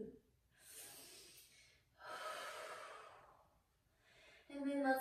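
Slow, deep yoga breaths during a gentle hip-opening sequence: two long airy inhalation-exhalation swells close to the mic, then a shorter breath with a faint voiced sigh at the end.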